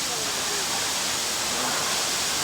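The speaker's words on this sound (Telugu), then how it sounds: "ఇదిగోండి పైనుంచి ఎక్కడి నుంచో వాటర్ ఫాల్ పడుతుంది" Waterfall pouring down from somewhere above onto the wet path to the Jwala Narasimha temple at Ahobilam in the Nallamala forest, a constant dense rushing hiss that fills the scene without a break.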